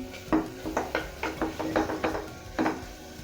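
Spices for aloo palak stirred in a metal pan, a spoon scraping and clinking in a steady series of close, distinct strokes with no talking.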